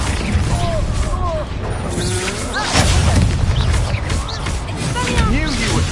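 Confringo fire spell explosions and magical combat from the video game Hogwarts Legacy, with booming blasts, crackling impacts and mechanical whooshes layered densely, loud and continuous, while voices talk over the action.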